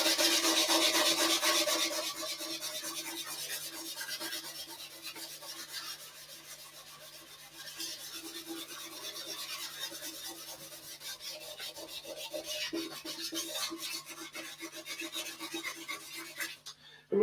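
Sandpaper rubs back and forth over wood to smooth it, a steady close rasping scratch that runs continuously for over fifteen seconds with slight surges in intensity.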